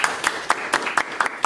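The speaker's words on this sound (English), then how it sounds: "Everybody give him a round of applause." A small group gives a quick round of applause at a military aviation visit, sparse separate claps landing in a steady beat, roughly four per second.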